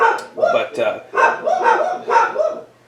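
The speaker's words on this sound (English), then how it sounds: "Sorry, my dogs are barking." Several dogs bark repeatedly indoors in loud, close bursts of bow-wow barks with short pauses between, while someone talks over and between them.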